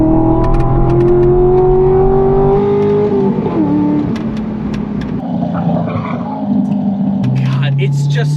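A Corvette C6 Grand Sport sports car accelerates hard, its engine note rising and shifting through revs, loud and close inside the cabin, with a steady roar filling the whole stretch.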